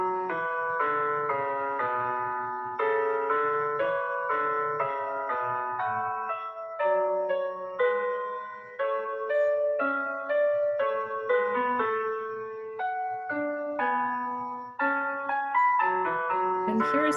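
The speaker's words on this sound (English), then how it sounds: "So I'm gonna go back to Daniel's assignment and play it back because he has both the canon and the short cadence" Playback of a student's composition for a Colburn Academy class, a canon ending in a short two-voice cadence, with clear synthetic tones stepping through overlapping melodic lines at moderate volume and no talking.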